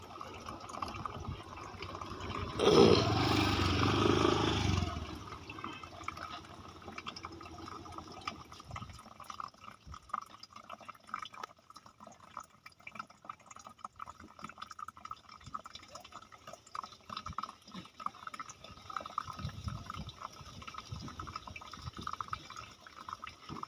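Water pours noisily through a cloth filter for a couple of seconds, then settles into a faint, steady trickle and drip that continues quietly.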